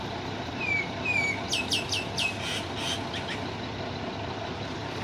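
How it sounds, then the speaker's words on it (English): Several quick, bright bird chirps ring out for a moment above constant road traffic noise on a busy street in Phuket. "look at the bird."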